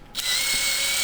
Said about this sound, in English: cutting fluid onto the combo drill and tap, and then go forwards and backwards a little bit through the hole